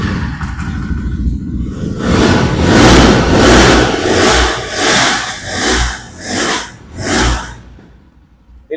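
A used 2023-model motorcycle at a second-hand bike dealer starts up and idles, then is revved repeatedly in loud rising bursts that pulse about once a second before dropping back, close by with no talk.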